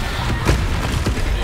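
A Confringo fire spell blast in Hogwarts Legacy: dull booming thumps over a dense, noisy game soundscape, with two short bursts about half a second apart.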